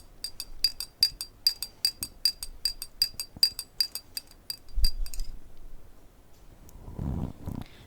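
A spoon stirs salt into water in a glass, ringing out a quick series of bright clinks against the glass for about five seconds before they stop, followed by soft handling noise and a low rumble.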